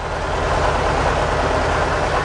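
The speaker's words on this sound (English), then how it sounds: "It's running quite nicely now on this engine" A Mercedes 190E with the M102 four-cylinder engine runs at a steady idle after a fuel pump change, producing a constant close-up drone with an even low pulsing throb and no pauses.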